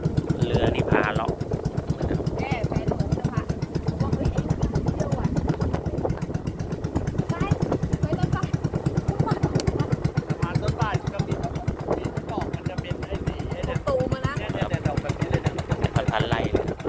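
A small boat's engine putters steadily and close throughout a tour of a red lotus field in Nakhon Sawan, its rapid chugging rhythm constant beneath faint voices.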